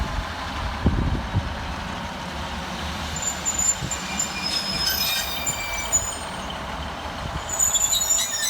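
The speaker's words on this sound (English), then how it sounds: "Next passing through the station for cross country is 221125, working 1 Oscar 16 from Manchester Piccadilly through to Bournemouth." CrossCountry train 221125 passing through Levenshulme station, a low rumbling roll with faint high wheel squeals, steady and moderately near, with no talk.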